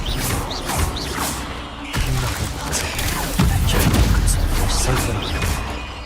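The Expelliarmus spell is cast in a video game with a bright whoosh and a heavy boom that crash through dense game noise, while a voice is heard at times.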